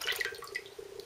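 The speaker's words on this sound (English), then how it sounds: "Next I'm going to add the fruit juice in the pan" Fruit juice pours into a pan for jelly, a short, soft liquid trickle with light dripping splashes close by.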